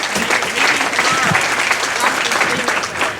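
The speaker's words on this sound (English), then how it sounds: "that deserves a round of applause" Loud, close applause from a crowd at a Resist Hate RI community meeting, a dense burst of clapping that holds steady for a few seconds.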